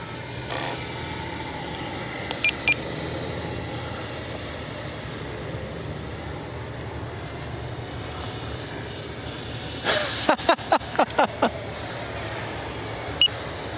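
A steady whining turbine roar from a small RC model L-39 jet in flight, held at an even level, with a few short beeps and clicks near the end.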